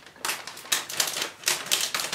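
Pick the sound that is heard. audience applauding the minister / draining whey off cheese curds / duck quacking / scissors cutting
scissors cutting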